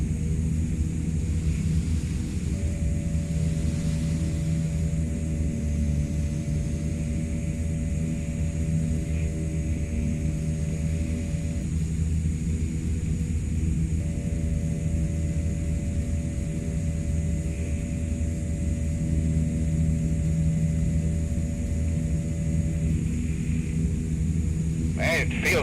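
A CL-415 water bomber's engines drone in Microsoft Flight Simulator 2024 on a wildfire flight over Queensland, Australia: a steady, constant rumbling hum with faint tones that hold and shift, unbroken for the whole stretch.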